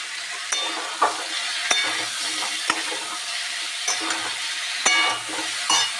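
Tomatoes fry in a pan for a mixed vegetable curry, giving a soft continuous sizzle broken by sharp spoon clicks and scrapes against the pan, with no talking.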